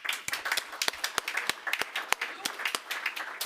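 Applause at a conference closing session: a modest audience claps in a sparse, irregular patter of sharp, distinct hand claps, fairly close, with no talking over it.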